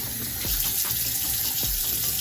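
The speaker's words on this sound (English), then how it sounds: "lukewarm water to wet the face" Lukewarm water runs from a tap into a sink while hands are washed before a face wash, a steady close splashing stream broken by a few gurgling drops, with no talk.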